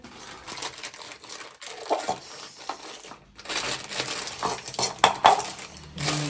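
Plastic sheet being crinkled and pressed over a container of homemade mixed vegetable pickle, close rustling and crunching with a few light clinks, no speech.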